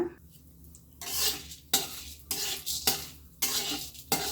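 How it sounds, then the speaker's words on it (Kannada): Chana dal frying in a little oil in a hot kadai, stirred in repeated scraping sweeps over a steady sizzle, five loud bursts of stirring about every half second to second, close by with no talk. "ಕಡಾಯಿ ಬಿಸಿಯಾಗಿದೆ ನಾನು ಇವಾಗ ಇದಕ್ಕೆ ಸ್ವಲ್ಪ ಒಂದೇ ಒಂದು ಟೇಬಲ್ ಸ್ಪೂನಷ್ಟು ಎಣ್ಣೆ ಹಾಕ್ಕೊಳ್ತೀನಿ ಇದಕ್ಕೆ ಕಡಲೆಬೇಳೆ ಹಾಕ್ಕೊಂಡು ಚೆನ್ನಾಗಿ ಫ್ರೈ ಮಾಡ್ಕೊಳ್ಳೋಣ"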